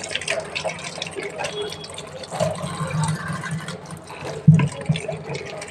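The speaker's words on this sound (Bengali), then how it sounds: "আমি এবারে এগুলি একে একে করে ধুয়ে নেবো।" Peeled papaya, potato and tomatoes being rinsed under running water in a kitchen, splashing and trickling with handling sounds and a soft clunk near the end.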